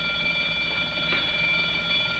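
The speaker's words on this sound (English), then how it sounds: "The alarms are functioning perfectly all over the bank." A bank's burglar alarm rings continuously, a loud steady electric bell with a sustained shrill tone that never stops or changes.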